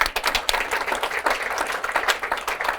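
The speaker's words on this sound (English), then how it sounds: "We can all give him an applause." Audience applause at the Entrepreneur Nation 2023 annual gala, a steady crowd of many hands clapping at moderate level for the full stretch with no voices over it.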